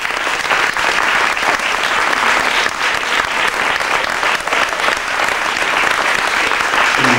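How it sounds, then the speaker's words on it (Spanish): Vigorous, sustained audience applause for a young organist at a live show, loud and close with dense overlapping claps holding steady throughout. "Voy a pedir un fuerte aplauso para Raquelita."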